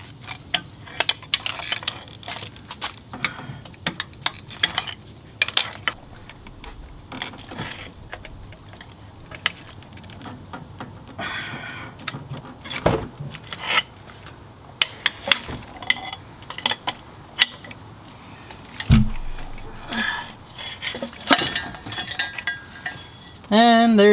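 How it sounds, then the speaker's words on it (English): A pry bar clicks and scrapes while prying the fuel rail off a Mazdaspeed 3 engine, with many short, sharp metallic ticks and knocks over a steady low hum, close by and intermittent. "we're going to use this pry bar, kind of use 2 of them"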